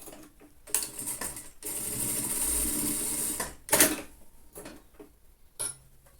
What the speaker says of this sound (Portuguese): Agora, eu vou fazer aqui mais uma costurinha, reforçando embaixo do braço